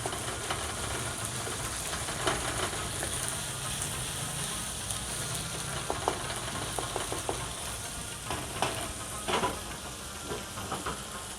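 Tomatoes mashed and stirred in a pan into gravy for an aloo kaddu sabzi, a faint steady sizzle broken by soft scraping and tapping of the spoon, with no voices.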